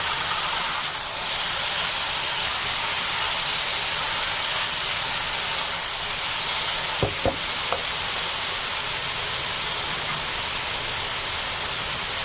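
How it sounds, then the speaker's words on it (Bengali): Boiled broccoli, cauliflower and carrot stir-fried in a hot pan, a steady loud sizzle filling the whole stretch with a couple of brief clinks of a utensil near the middle. "এবার দিয়ে দিচ্ছি সিদ্ধ করে রাখা সবজিগুলো, ব্রকলি, ফুলকপি এবং গাজর"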